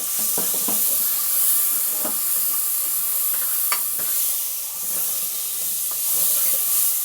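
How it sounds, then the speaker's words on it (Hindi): Washed green moong dal fries in hot oil inside a pressure cooker, giving a continuous hissing sizzle broken by irregular stirring scrapes and clicks, close up and with no voices. "ऑयल गर्म होने पे हम इसके अंदर जो दाल हमने वॉश करके रखी थी वो हम शामिल कर देंगे और इसी ऑयल में इसको फ्राई कर लेंगे।"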